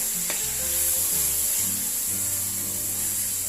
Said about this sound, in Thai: มาพบกับขั้นตอนการ ย่างหมูแต่พอดี